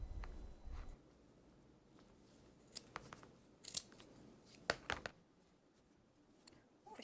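Scissors trim the fabric corners of a dog coat sewing project in a few faint, scattered snips and clicks over quiet room background.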